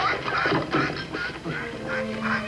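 A live duck quacks in repeated bursts, close and fairly loud, in a 1950s farm drama scene with a steady tone underneath.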